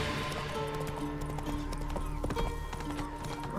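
Roach, a horse in The Witcher 3, gallops in a fast, steady clip-clop of hooves, loud and close, under a busy in-game backdrop.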